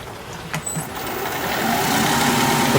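Wood lathe turning a walnut spittoon bowl and speeding up to about 1200-1300 RPM. A rising, steady motor whine grows louder over a few seconds after a couple of small knocks at the start.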